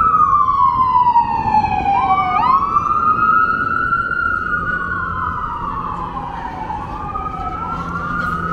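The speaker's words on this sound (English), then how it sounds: "Oh, sirens." Wailing emergency sirens near a firehouse on the main strip of Philadelphia's Chinatown, loud and close, sweeping up and down in pitch with several overlapping tones over steady street and wind noise.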